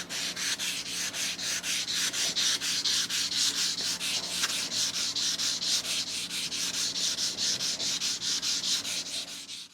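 Hand sanding of a steel knife blade, a rhythmic, steady back-and-forth rasping stroke repeated evenly and close up, with no voices.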